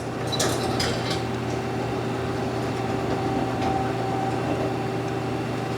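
The weight cover on a 2011 Mazak QTN 250-II CNC turning center slides as the axes are jogged, a steady mechanical hum and rumble with light rattling clinks near the start.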